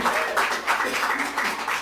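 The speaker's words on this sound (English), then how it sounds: "just one more round of applause for Die Laughing" Audience applause for the performers Die Laughing, a steady wash of many hands clapping for about two seconds, moderately loud and dense with no break in the sound.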